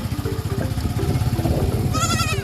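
A newly bought goat bleats near the end, a short wavering call rising over a steady low engine-like rumble that runs throughout.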